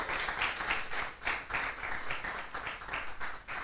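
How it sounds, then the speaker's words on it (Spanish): A church congregation claps during a Spanish-language service, with rhythmic bursts of applause rising and falling in loose pulses, fairly loud and close throughout. "Denle un aplauso al Señor por eso."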